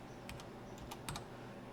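Typing on a computer keyboard, a short run of crisp key clacks in two small bursts, close and clear over a faint steady background hum, with no speech.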